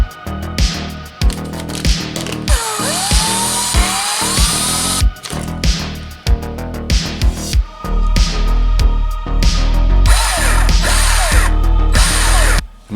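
Power drill boring a hole through an RC crawler chassis, an SCX10 II Jeep Briarwood build, in short repeated bursts with whirring pitch changes and pauses between runs, close and loud.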